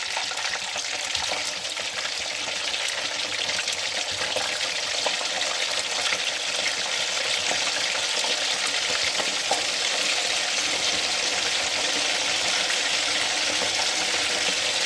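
Masala chicken frying in hot oil for a steam roast, a steady close sizzle and crackle running unbroken throughout, with faint stirring and no voices.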